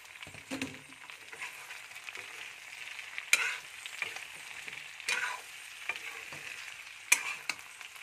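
Local chicken cooking in a pan just after chopped tomatoes go in for an Assamese curry: a quiet, continuous sizzle with occasional sharp spatula clacks against the pan, close up and without talking.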